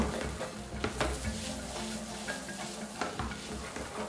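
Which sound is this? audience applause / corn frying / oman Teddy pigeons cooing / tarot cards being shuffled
corn frying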